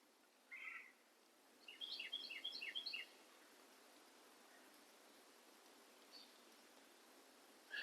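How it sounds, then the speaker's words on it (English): Birds chirp faintly beside a mostly dry rocky creek: one short call, then a quick run of bright tweets, then a few isolated chirps over quiet outdoor hiss. "Hear the birds."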